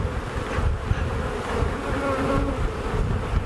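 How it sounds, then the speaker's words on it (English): Honey bees in a hive box being smoked during a first spring inspection after a cold Texas winter give off a dense, close, continuous buzz that swells and wavers throughout. "try to drive every bee that's in this box down into the bottom"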